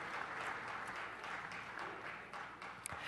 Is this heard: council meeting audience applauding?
yes